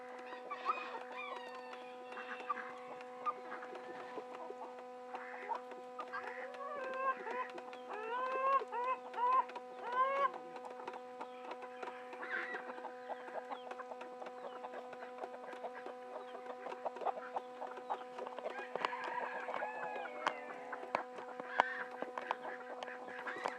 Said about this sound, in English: those hens are gobbling them up